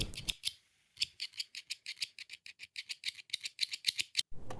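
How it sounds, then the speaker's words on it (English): Sewing scissors are handled and snipped in a quiet room, a rapid series of crisp metallic clicks and snips in uneven rhythm, close and clear with no talking. "scissors"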